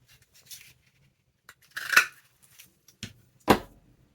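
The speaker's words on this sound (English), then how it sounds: "So what if I cut a circle out of here" Scissors snip a circle out of paper scraps, a handful of separate crisp cuts spaced across quiet moments, each a short dry crunch close by.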